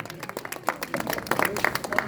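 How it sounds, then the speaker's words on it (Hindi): An audience claps for social workers who came out in the winter cold, short uneven clapping from a modest crowd mixed with voices. "इनके सबके नाम की ताली बजाओ जो यहाँ पहुंचे इस सर्दी में"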